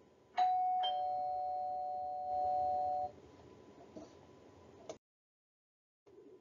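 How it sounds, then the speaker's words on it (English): A doorbell rings with a sustained electronic tone lasting about three seconds and one brief ding, moderately loud with a faint background hiss, followed by silence. "as the doorbell rang."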